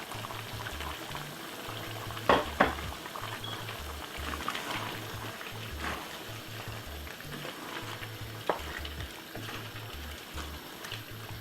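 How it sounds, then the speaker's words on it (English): Vegetables go into a pot of chicken stewing in its own juices, with a steady bubbling simmer and occasional sharp splashes and clinks as they drop in, close and without talk. "Put the veg inside of it."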